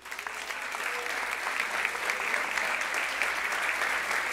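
A church congregation applauds during a Sunday celebration service, a dense, steady wash of clapping that swells quickly and holds at an even level without a break for the whole span.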